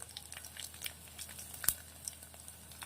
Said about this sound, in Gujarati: આપણું તેલ ગરમ થઈ ગયું છે. તો આપણે અંદર એડ કરી દઈશું. રાઈ નાખી દઈશું.